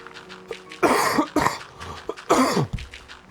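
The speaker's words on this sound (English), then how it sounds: "The cough is starting to feel satisfying rather than just miserably unsatisfying" A person coughs in short harsh bursts, three strong fits with smaller hacks and throat sounds between them, close and clear with no talking.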